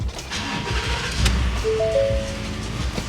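A truck engine is cranked and catches, a loud, continuous mechanical rumble up close that runs for a few seconds.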